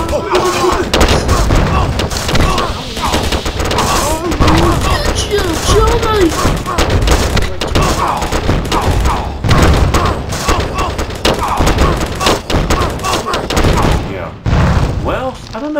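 Napalm strike in the Battle Ages video game, a dense, loud barrage of booming blasts and rapid gunfire-like bursts running continuously, with voices chattering over the chaos.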